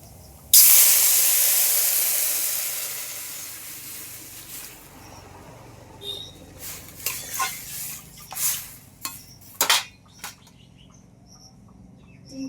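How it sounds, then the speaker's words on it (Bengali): Water poured into a pot of fried lentils sets off a sudden loud rush of steam and hiss that slowly fades over several seconds, followed by scattered light clinks and stirring. "এবার আমি ডালের মধ্যে জল দিয়ে দিচ্ছি"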